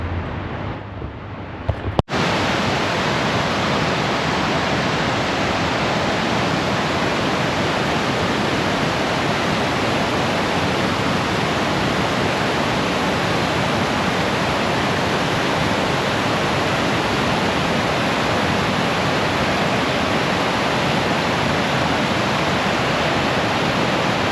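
A waterfall near Portage Glacier in Alaska roars as a steady, loud, broadband rush that continues unbroken for the whole stretch after a brief handling bump at the start.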